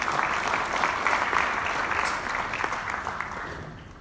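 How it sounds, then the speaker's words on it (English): Applause from a symposium audience on catastrophe risk management, a steady sustained clapping that tapers off near the end, no talk over it. "Another round of applause for him,"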